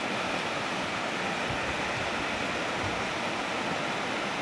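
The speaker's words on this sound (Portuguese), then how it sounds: "Mas está descendo muita água." Rainwater rushes steadily along a roadside after a night of fine rain near Arapiraca, Brazil. The broad, constant hiss and gurgle of flowing water carries on evenly throughout.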